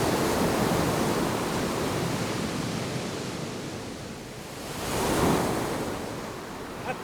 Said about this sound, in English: The jetties are ineffective against the raging storm. It seems as if the angry sea is trying to swallow up Santa Cruz